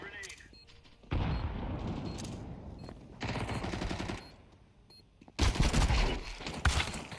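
Bursts of automatic gunfire from a first-person shooter video game, coming in rapid clustered volleys separated by brief lulls, loud and close, with a voice talking faintly in the background.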